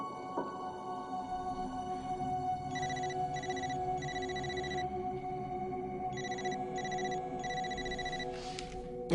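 A telephone rings in repeated electronic bursts, two sets of triple trills separated by a pause, fairly faint over a low background hum.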